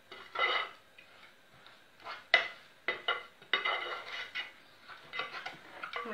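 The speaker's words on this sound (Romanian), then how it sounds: "Și le punem aici toate în oala noastră și le amestecăm." A mixture of water, baking soda and cornstarch being stirred in a pot, making modelling clay: intermittent scraping and light clinking of a utensil against the pot in short bursts, close and fairly quiet, with no talk.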